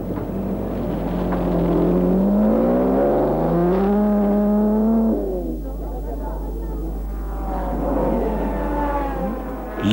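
A Cunningham team race car, number 1, runs in a 1954 race. Its engine revs up and down in rising and falling tones, steady and prominent, while a commentator talks over it.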